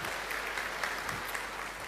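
A crowd at an anniversary event in Panglong claps continuously, a thick, uniform patter of many hands with a few sharper claps standing out, filling the space evenly without any voices.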